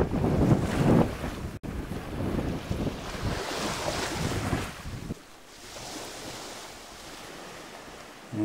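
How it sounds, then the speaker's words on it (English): Waves roll in on the incoming tide at Cape Melville beach, pushing up a creek. The surf is a steady broadband wash, heavily buffeted by wind on the microphone, and grows quieter and softer after a few seconds. No one speaks. "There's the tide coming in"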